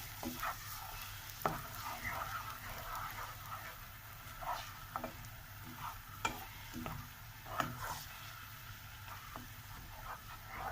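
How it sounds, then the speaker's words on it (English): Curry masala with turmeric and salt is stirred in a pan for green fish curry: a faint, steady sizzle runs beneath scattered soft scrapes and taps of the spoon, with no talking. "Mixing this well."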